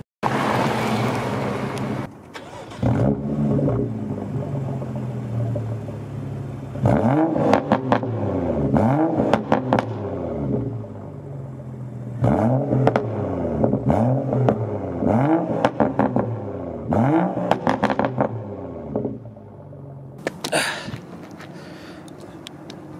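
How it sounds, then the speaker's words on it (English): A BMW with an MHD burble tune starts up and is revved several times, each rev rising and dropping in quick bursts with crackles between, heard close up outdoors. "I'm gonna cut the car off, do a start, and then I'll rev it up"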